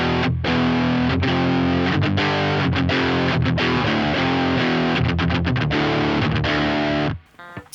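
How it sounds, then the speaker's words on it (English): Electric guitar played through a pedalboard with heavy distortion, ambient post-rock style, ringing sustained chords with brief breaks between strums, loud and close, then cutting off near the end. "But when you have a distortion sound, it's just you immediately hear there's something more going on"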